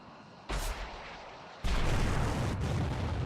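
Missiles launching and striking a platform in the flight combat game Tiny Combat Arcade, heard as two loud sudden booming bursts that each roll into a sustained rumbling roar.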